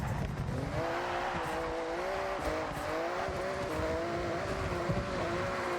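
Porsche 911 racing a lap in Forza Horizon 6, its engine droning steadily with pitch rising and dipping through gear changes and corners, continuous and fairly close with no talking.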